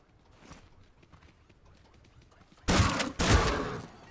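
A spud gun fires twice in the video game Scrap Mechanic: two loud, sharp blasts about half a second apart burst out of a quiet, faintly chirping background.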